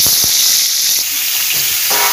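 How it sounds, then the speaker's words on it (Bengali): Pieces of pointed gourd fry in hot mustard oil in a kadai, giving a loud, close, continuous sizzle and hiss with a few soft knocks, and no talking. "এবার পটলগুলো ভেজে নেব"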